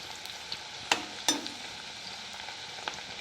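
Jackfruit pieces for chakka chips crackle in hot oil over full flame, a continuous close hiss punctuated by two sharp spatters or clicks early on and a lighter tick later, with no voices.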